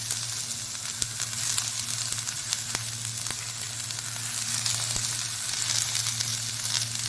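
Chopped vegetables such as green chilli, garlic, capsicum and cabbage hiss in a frying pan with only a quarter spoon of oil, a steady close sizzle with a low hum beneath and a few faint clicks, no voices.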